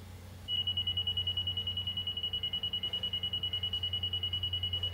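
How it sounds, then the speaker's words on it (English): A Stabila LAX200 laser receiver gives a steady, high, even electronic tone that starts abruptly and holds without a break, clear and close with no talk. "you'll hear that it's going to give me an even tone when I hit 0"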